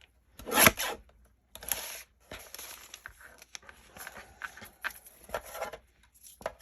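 Scissors trimming the ends of paper envelope clutches made from vellum and tracing paper: a loud crisp snip near the start, then a series of softer irregular cuts and paper rustles up close.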